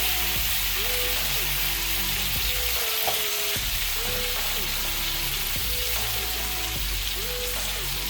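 Goat meat for curry goat fries in a pot with a steady, loud, dense sizzle that carries through without a break, and a faint tonal hum sits underneath.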